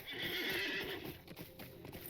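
Horse in the Lord of the Rings Online video game whinnying loudly over steady clip-clop hoofbeats, the neigh fading as the hooves keep trotting.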